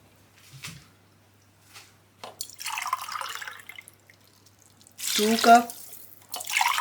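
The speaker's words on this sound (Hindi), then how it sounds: "तीन कप पानी डालना है। 2 कप चावल लिए थे, पहले से भिगो के रखे हुए, इसलिए हमने 3 कप ही पानी डालना है।" Water splashes from a cup into a pot of soaked rice for vegetable pulao, in two short pouring bursts, close and loud, with a person speaking in between.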